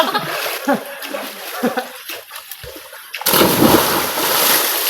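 Someone dives into the pool below Tugonan Falls in Bislig City, Surigao: after a stretch of voices and light splashing, one loud splash breaks in and gives way to churning water and a continuous rushing wash.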